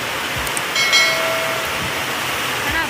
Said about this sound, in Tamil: நல்லா மழை பெய்யுது